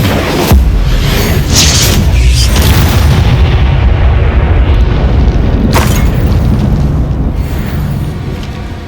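A loud, booming fiery explosion from the Confringo spell in Hogwarts Legacy, a heavy rumbling blast with crackling bursts that rolls on for several seconds and swells again near the end.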